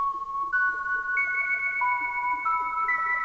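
Flute-like synth sample playing a slow, high melody of clean sustained tones that step up and down, each note gliding into the next, alone and close over a faint background.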